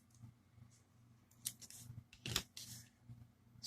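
Scissors snip through green yarn in a loom knitting project, a single crisp cut standing out near the middle against a quiet room with faint low hum.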